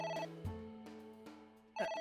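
A phone rings in AI: The Somnium Files with electronic bell-like tones, a few bursts with short gaps over a low steady game backdrop.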